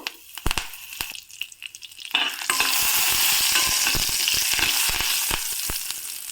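Curry leaves added to hot tempering oil with urad dal and a pinch of turmeric, first a few scattered pops and clinks, then a loud continuous crackling sizzle that fills the rest, close up with stirring taps.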